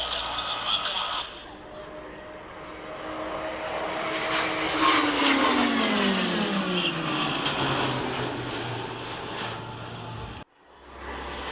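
A Mustang aircraft flies over the crowd at the Belvès Saint-Pardoux airshow, its engine drone swelling as it nears, then sliding down in pitch as it passes and fades away before a sudden cutoff.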